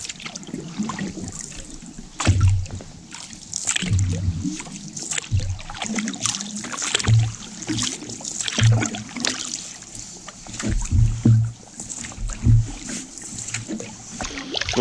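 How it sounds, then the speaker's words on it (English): Canoe paddling on wilderness water: repeated paddle strokes with soft splashes and dribbling drips at an irregular rhythm, close by, over a constant background of moving water. "So, let the paddling excursion begin."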